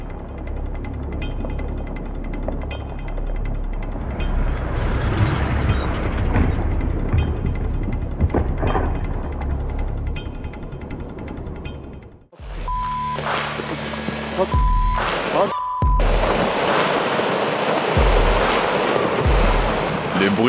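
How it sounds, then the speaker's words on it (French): A rockfall in the Swiss Alps sends a steady, roaring rumble echoing through the valley for about twelve seconds, heard from a distance. After an abrupt cut, a different scene follows with mixed noises. "Le bruit de cette chute de pierre en Suisse a résonné dans toute la vallée"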